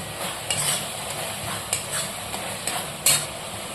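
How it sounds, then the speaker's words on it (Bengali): Spice masala with coriander leaves sizzles in a pan for a Bengali cauliflower bhetki kofta curry, a constant frying hiss broken by sharp spatula scrapes and clinks against the pan, close up and without talk. "আমি ধনেপাতাটা দিয়ে মশলাটা খুব ভালো করে কষিয়ে নেব"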